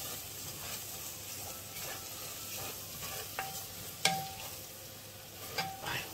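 Marinated chicken sautéed with spice powder for chicken biryani over a low flame gives a steady, close frying sizzle throughout, broken by a few sharp spoon or spatula scrapes against the pan, with no talking.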